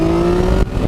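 A 2015 Yamaha FJ-09 (MT-09 Tracer) adventure motorcycle's engine drones loud and close as it pulls away, its steady tone breaking off sharply near the end of the brief moment.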